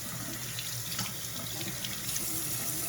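A water tap runs steadily into a sink while hands are rinsed, a continuous close splashing hiss with slight fluctuations and no speech.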